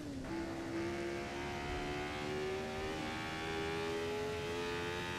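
A Formula 1 racing car engine at Goodwood drones loud and steady, its pitch holding and then climbing slightly, with no voices over it.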